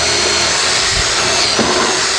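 Power tool driving lag bolts into the end of a wooden outdoor deck bar table frame, a steady loud whirring drone with brief changes in pitch as the bolts bite.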